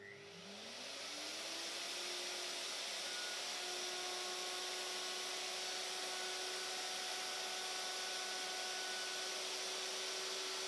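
Rutlands R70 1/2-inch router spinning up and cutting wood in a workshop, a steady high-pitched whine that rises quickly at the start and then holds loud and continuous.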